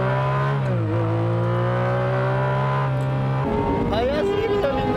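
Race cars, including a Porsche, accelerate hard off the start at Suzuka in 2000; loud, close engine tones climb and drop through gear changes as several cars roar together.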